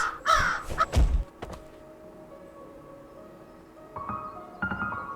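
Raven cawing in the Habromania video game, a couple of harsh close caws near the start followed by quieter ambient tones and a few later soft calls, with no talking.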